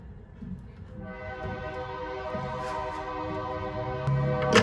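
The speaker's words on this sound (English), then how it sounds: "Train noise." A train rumbles past while its horn sounds a long, steady multi-tone blast that builds in loudness.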